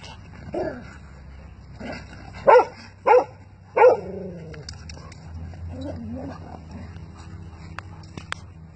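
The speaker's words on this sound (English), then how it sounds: "Stop barking." A dog lets out three quick barks in a row, close by, preceded by a softer yip, with quiet background hum.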